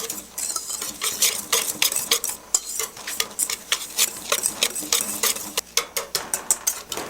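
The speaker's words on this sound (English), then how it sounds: "So stir it all together." Dry cake ingredients of flour, sugar and cocoa being stirred together in a bowl, giving a steady run of close, scraping and tapping strokes in an uneven rhythm with no talking.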